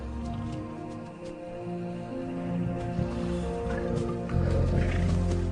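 Young lions on the African savanna at night give out low, rumbling growls and grunts over a dense background. The rumbling grows louder and nearer toward the end.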